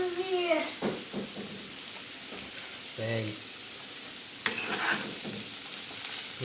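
Potatoes fry in a pan with a steady, close sizzle and crackle. A few stirring scrapes and a voice speaking briefly sit on top of it.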